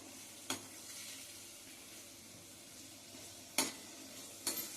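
Amla sautéing in a pan gives a soft, continuous sizzle, broken by three sharp clinks of a spoon stirring against the pan.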